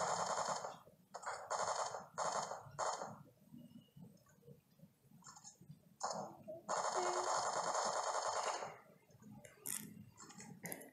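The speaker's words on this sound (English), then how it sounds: "Someone is shooting at us." Bursts of automatic gunfire from a mobile shooter game played on a Poco X2 phone come in several rapid volleys, some short and clipped, one longer sustained stretch, with quieter gaps between.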